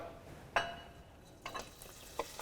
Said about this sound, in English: I'm gonna take this delicious, salty, sweet, savory pancetta and put it into the pan